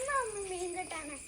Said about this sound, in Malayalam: പൂച്ച വിളിച്ചേ.